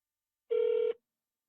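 Outgoing phone call ringback tone, one steady electronic ring lasting under half a second, clean and alone against silence, while the call connects to an AI bot answering for a cake shop.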